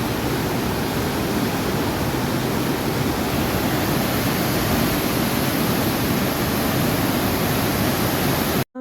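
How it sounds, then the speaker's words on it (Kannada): The Ganga river at Gangotri roars loudly and without a break, a dense, close wash of rushing water that fills the whole stretch and then cuts off sharply at the end. "ಆದರೆ ಇವತ್ತೆಷ್ಟು ಜೋರಾಗಿದ್ದಾಳೆ ನೋಡಿ ಗಂಗಾ"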